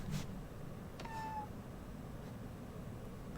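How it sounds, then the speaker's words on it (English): A house cat lets out one brief, faint meow, preceded and followed by soft clicks and quiet room noise. "Don't mind my cat."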